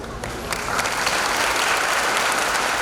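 An audience at a kirtan breaks into applause, the clapping swelling from scattered claps to a steady, full roar of many hands, loud and sustained.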